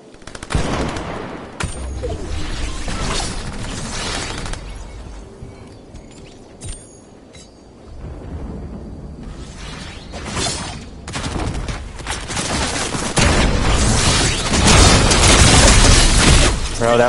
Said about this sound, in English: Bro, that pulse rifle is way too overpowered.